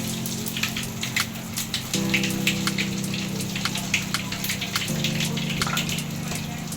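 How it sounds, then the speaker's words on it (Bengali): Potato balls deep-frying in hot oil over medium heat, a steady crackling sizzle full of tiny pops, close and fairly loud, with a low background hum that shifts in level partway through. "এখন আমি আস্তে আস্তে মিডিয়াম আঁচে এটাকে সুন্দর করে ভেজে নিব।"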